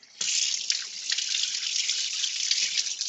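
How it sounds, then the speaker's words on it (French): Running tap water pours over hands being rinsed at a kitchen sink while baking a brownie, a steady close splashing rush that starts abruptly and continues without pause. "Je me rince les mains."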